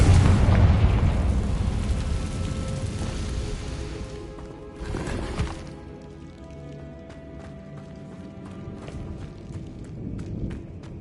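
The Confringo spell in the PS5 game Hogwarts Legacy sets off a loud, rumbling explosion with a deep boom. Scattered debris pops and clatters follow as it fades, and there is no speech.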